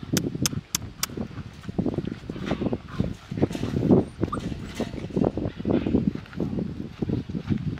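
Young puppies, about seven weeks old, yip and whimper up close in a quick string of short, high cries with a few sharp barks. A person speaks softly at times, and a faint fan hum sits underneath.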